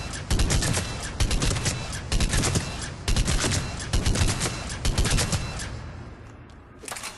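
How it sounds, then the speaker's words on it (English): Argus assault rifle in Mass Effect 3 fires at point-blank range in loud, slow bursts of several shots each, repeated about once a second with a short pause near the end. "this is its maximum rate of fire, so it fires fairly slowly as well"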